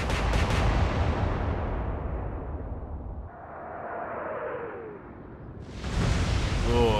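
Battleship main guns firing in a naval combat game, opening with a heavy roaring blast that decays slowly, then a lull with a whistling shell in flight, and a second loud boom near the end.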